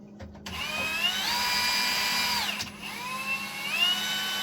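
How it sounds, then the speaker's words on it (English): A power drill stirring wine must whirs up to speed, holds a steady high whine, dips briefly, then spins up again, close by. "So now we're going to take our drill,"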